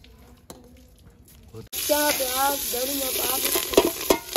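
Tempering for saag suddenly hits the hot pan partway through, bursting into a loud, steady sizzle and crackle with stirring. Before the sizzle starts, a few quiet clicks are heard, and a person talks over the frying.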